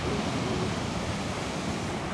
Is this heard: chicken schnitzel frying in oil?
no